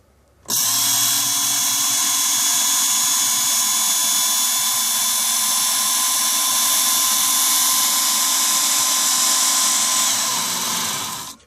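A WorkSharp KO knife sharpener grinds a blade against its belt in one steady, loud, high-pitched whine that holds for about eleven seconds before cutting off.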